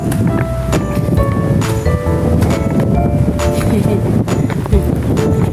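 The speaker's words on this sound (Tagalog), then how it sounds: "Ayan guys, mahangin diba?" Gusty wind buffets the microphone outdoors during a walking exercise, a constant loud rumble beneath someone talking.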